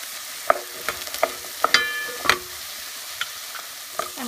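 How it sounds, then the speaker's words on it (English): Garbanzo beans stirred into a fried onion mixture in a pan, with a run of scraping spoon strokes and clatters over a soft steady sizzle, close up and with no talking. "Add your beans to your onion mix. Stir."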